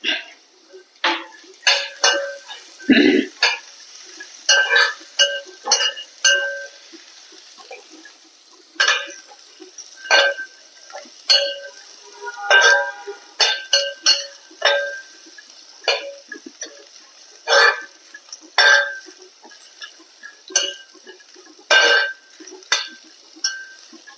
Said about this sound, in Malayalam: നമുക്ക് ഈ വറുത്ത അണ്ടിപ്പരിപ്പും കപ്പലണ്ടി ഇതിലിട്ട് കൊടുക്കാം